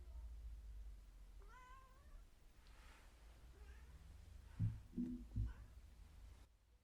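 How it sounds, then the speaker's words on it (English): A cat screams and meows indoors: a few drawn-out, wavering yowls spaced apart, fairly faint, followed by a couple of louder low thuds near the end, with no voices. "My cat's screaming."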